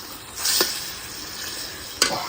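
Taro stolon curry sizzling steadily in a pan, with two sharp scraping stirs of a spoon against the pan that briefly lift above the quiet frying hiss.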